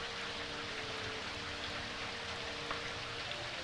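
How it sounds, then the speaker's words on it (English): Steady rain ambience in the video game Daggerfall Unity, an even, dense hiss with a faint scatter of drops that stays constant throughout. No voices are heard. "Why can I not turn down the rain?"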